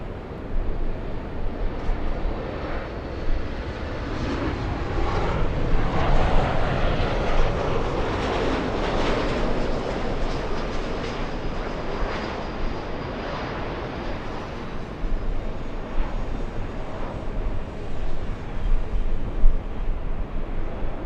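A Lufthansa Boeing 747 taking off from runway 24 left at LAX makes a broad jet roar that swells and holds for twenty seconds, mixed with gusty wind rumble on the microphone.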